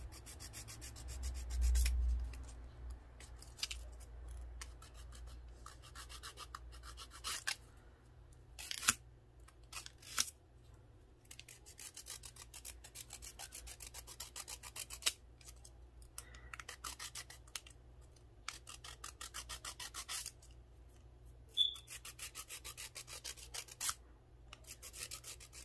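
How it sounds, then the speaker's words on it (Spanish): A hand nail file rasps against press-on nails in faint, close scratching strokes. The strokes are irregular and keep going for a long stretch over a quiet background. "Yo en este caso lo estoy haciendo con la lima de mano"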